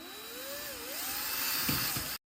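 A power driver whines steadily with gliding pitch as screws are driven to secure a countertop pop-up outlet, one continuous close run lasting about two seconds before cutting off abruptly.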